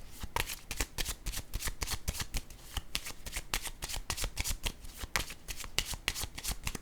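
Tarot cards are shuffled rapidly and repeatedly close by, producing a dense series of crisp riffling snaps with no talking.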